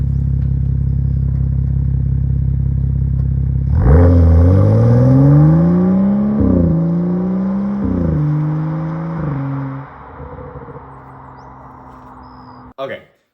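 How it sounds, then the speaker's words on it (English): BMW 335i with the N55 engine and a Turner Motorsport muffler delete, idling with a deep drone, then revving in several rising and falling pulls before dropping back, with a short sharp burst near the end. "this is a Turner Motorsport muffler delete bought from ECS Tuning"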